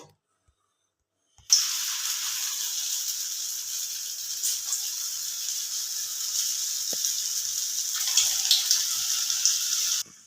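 Potato snacks drop into hot oil and fry with a sudden, steady, close sizzling hiss that continues for several seconds without talk.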